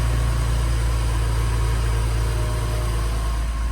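A BMW 335i engine idles with its cover off, a steady loud hum with a rapid ticking chatter from the fuel injectors running throughout.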